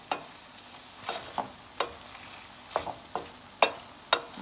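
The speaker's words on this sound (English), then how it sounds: "The grated garlic is going in. And we're gonna mix that in." Grated garlic fries in a pan with a low sizzle while a utensil stirs it, giving repeated sharp scrapes and taps roughly every half second, close and clear.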